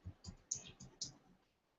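A few soft, quick keystrokes on a computer keyboard, faint and close, tapping in a short uneven burst before trailing off.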